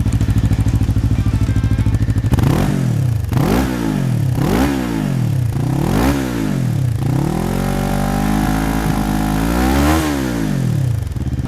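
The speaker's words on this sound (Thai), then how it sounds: "และนี่ก็คือเสียงของเจ้า" A Cyclone RA401 twin-cylinder motorcycle exhaust rumbles at idle, then revs in a series of rising and falling blips, loud and close, with no talking.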